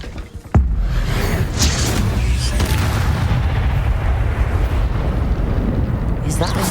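In Hogwarts Legacy, a Confringo blasting spell goes off with a sudden loud boom, then a dense, roaring rumble of explosion and debris carries on steadily for several seconds.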